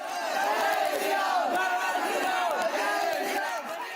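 A crowd of students in saffron scarves shouts slogans outside a school in loud, rhythmic, overlapping waves of chanting voices.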